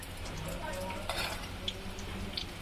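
Red chili thecha sizzling in a little hot oil, a steady close frying hiss with faint stirring scrapes and light utensil clinks.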